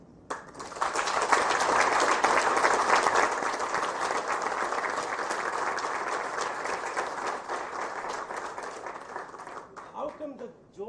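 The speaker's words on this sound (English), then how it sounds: "Give them a bigger round of applause." A long, dense round of audience applause for award winners at a corporate competition ceremony, rising quickly and holding steady for about nine seconds before tapering into a few scattered claps and voices.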